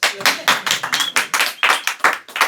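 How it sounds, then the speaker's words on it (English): A round of hand clapping from a group, steady and close, with bursts of claps pulsing through the whole stretch. "Big round of applause for yourselves."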